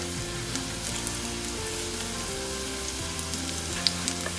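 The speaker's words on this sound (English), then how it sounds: "Saute it now." Chopped garlic sautéing in a pan gives a steady, close frying sizzle throughout, with small crackles and no voices.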